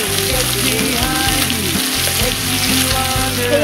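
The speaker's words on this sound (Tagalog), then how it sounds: "i-fry po muna natin yung fish ng half cook lang" Tambakol fish, a tuna, half-cooks in hot oil in a pan with a loud, steady sizzle and crackle lasting throughout, close up and with no one speaking.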